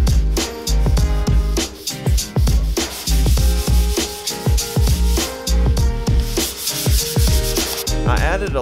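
Sandpaper of 320 grit rubs back and forth over a lacquered plywood finish between coats, a close, loud, steady series of scratchy strokes with no talking.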